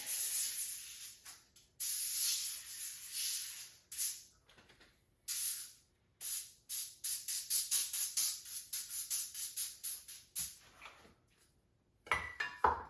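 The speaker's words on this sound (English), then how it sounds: "Got a little bit of like a cooking oil spray." Repeated short hissing bursts of an aerosol spray, close by, in quick irregular pumps with brief silent gaps between them.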